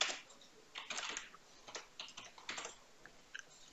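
Typing on a computer keyboard, a quiet series of irregular clicking keystrokes in short bursts, close and alone without speech.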